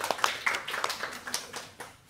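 A small audience claps at a tech-sector worker panel event, a brief patter of hand claps, fairly close and moderate in volume, fading out within a couple of seconds.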